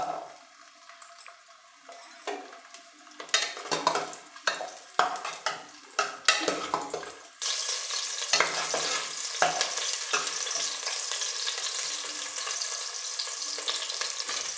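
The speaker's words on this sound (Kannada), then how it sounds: "ಈಗ ಈರುಳ್ಳಿ ಫ್ರೈ ಆಗಿದೆ" Small onions fry in a few spoons of hot oil with a cut bay leaf, giving sharp stirring scrapes and clicks at first, then a loud, continuous close sizzle that holds to the end.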